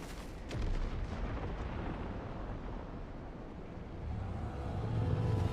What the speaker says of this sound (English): Cool guys don't look at explosions.